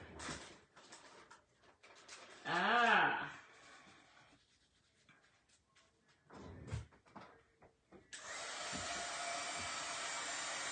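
A hair dryer dries a coat of paint on a pumpkin, switching on near the end as a steady, loud blowing roar after rustling, handling noises and a brief spoken voice.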